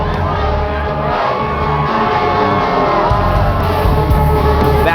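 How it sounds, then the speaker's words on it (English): Dense, loud crowd roar with yells, whoops and blaring horns at a women's college ultimate frisbee championship final between Stanford and Washington on Crescent Valley High School Field, steady and continuous throughout. "Back to the blaring horns and loud crowd here at Crescent Valley High School Field."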